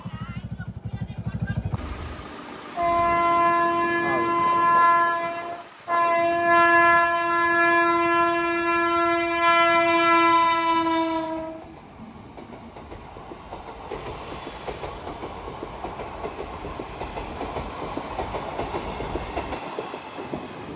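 At a railway crossing, a train horn blares for several seconds, then the heavy rumble and rhythmic clatter of passing cars fills the rest.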